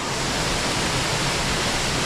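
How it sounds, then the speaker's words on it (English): Catterick Force waterfall rushing, a loud, steady, broadband roar of falling water, close and unbroken. "Well, this is Catterick Force waterfall at its best."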